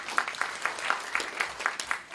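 Sparse audience applause at a PyCon Taiwan talk, a handful of claps in a loose, fairly regular rhythm rather than a full ovation.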